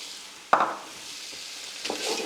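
Onion and garlic added to a pan of cooked bacon sizzle briefly, with a sharp stir or clatter near the start and a second scrape near the end over a faint steady fry.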